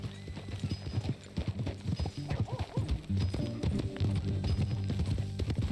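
Steady clip-clop of horse hooves at a walking rhythm in Red Dead Redemption 2, close and clear, with a faint background music bed and occasional bright tones.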